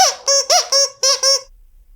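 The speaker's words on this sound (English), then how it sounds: "Ooh, that's a good squeak." A plush fish dog toy squeaks five times in quick succession, each a loud, high, wheezing squeal with a short gap between, then silence.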